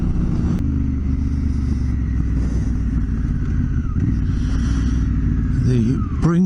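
An off-road vehicle drives through sand in the Bringalilli State Forest, its engine rumbling steadily and loud from start to finish, with a brief rise near the end. No one talks over it.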